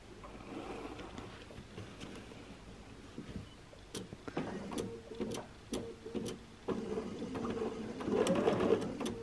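A sewing machine quilts straight lines through a quilt, with faint clicks and a quiet motor hum that grow louder and busier toward the end.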